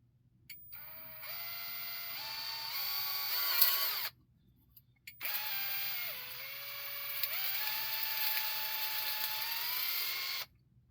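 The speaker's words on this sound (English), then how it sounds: "Okay, that's drilled out." A power drill bores through a part for a Skywalker lightsaber prop from A New Hope, a loud steady whine in two long bursts separated by a brief pause, the pitch dipping slightly as the bit loads, close and alone.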